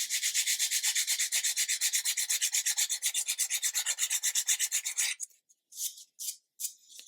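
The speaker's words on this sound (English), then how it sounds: "I am very lightly touching this because wood filler is very delicate and it sands away really easily" Light hand sanding of wood filler on a model ship display stand, close-up, a quick even back-and-forth rasping stroke repeated steadily for about five seconds, followed by a few separate short strokes.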